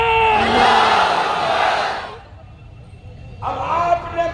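A protest crowd at a sit-in demonstration chants slogans in loud unison, a sustained roar of voices that drops away briefly before a second chanted shout rises up close.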